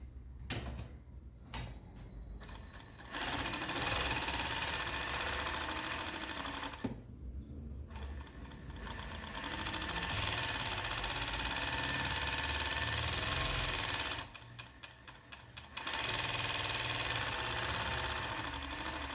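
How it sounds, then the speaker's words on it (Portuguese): An overlock sewing machine sews the seams joining fabric strips for a toddler's dress. It runs in long, loud, continuous whirring bursts, and each burst stops briefly before it starts up again. "vou passar o overlock de um lado e do outro lado pra gente franzir depois"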